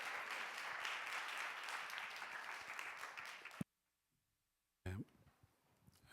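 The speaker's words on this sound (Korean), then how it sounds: "감사의 박수 하겠습니다." A church congregation gives a burst of dense, steady applause to welcome the pastor for about three and a half seconds, then it breaks off into silence before a short return of clapping and noise.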